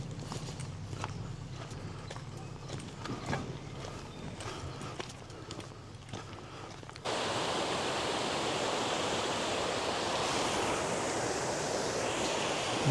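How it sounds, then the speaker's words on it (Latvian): A mountain stream in the Tatra Mountains, on the trail toward Morskie Oko, rushes steadily downhill. Loud, constant broadband water noise fills the second half after quieter ambient flow and footsteps, with no talk. "tek kārtējā kalnu upīte tur uz leju"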